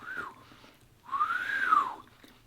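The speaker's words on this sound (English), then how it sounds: "You know when you want to whistle and you can't?" A person attempts to whistle and fails, producing two airy, breathy tones: a short one at the start and a longer, rising-and-falling one in the middle, quiet and close with no talking.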